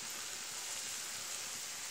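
Radish slices sizzle and fry in a covered pan over a wood-fired clay stove, a steady soft crackle with no talking.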